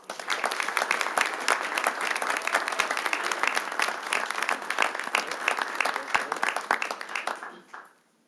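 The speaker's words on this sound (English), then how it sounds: "ask for you to join me in a round of applause as we congratulate her" A city council meeting audience gives a sustained round of applause for a parks and recreation employee of the year, dense steady clapping filling the room before tapering off at the end.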